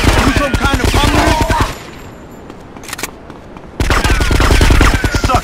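Loud automatic gunfire from a gun in GTA Vice City Stories, fast rattling bursts up close, broken by a short quieter gap before firing resumes.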